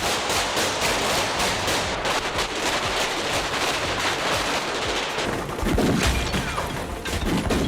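Rapid gunfire from The Matrix film, loud and dense with continuous bursts and cracking shots layered over heavy rumbling impacts, sustained throughout with no pause.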